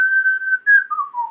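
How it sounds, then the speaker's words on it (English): A person whistles a single sustained tone that steps downward in pitch across a few held notes, close and clear with no talking. "we're really good at changing pitch while whistling"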